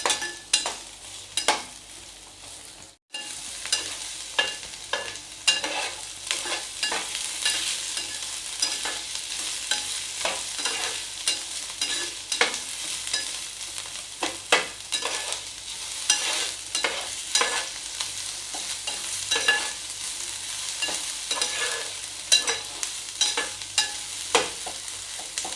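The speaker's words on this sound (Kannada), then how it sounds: "ಇದು ಮೀಡಿಯಮ್ ಸೈಜ್ ಈರುಳ್ಳಿ 2 ಕಟ್ ಮಾಡ್ಕೊಂಡು ಇಟ್ಕೊಂಡಿದ್ದೇನೆ. ಇದನ್ನು ಬ್ರೌನ್ ಕಲರ್ ಬರುವವರೆಗೂ ಹುರಿಬೇಕು." Two medium-sized cut onions fry and get stirred in a pan until browned, a continuous sizzle broken by frequent scraping spoon strokes, close and moderately loud with no talking.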